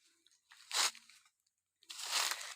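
A cow tears up sedge roots and chews them, making two close, crunchy bursts of ripping and crunching with a short quiet gap between them.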